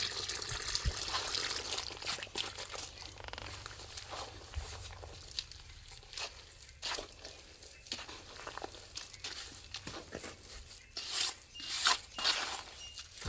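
Water splashes and trickles unevenly as it is poured, with soft rustling and shuffling around it, fairly quiet and close.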